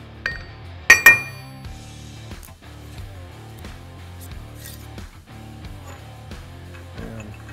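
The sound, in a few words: Eaton FRO16210C reverse gear placed on main shaft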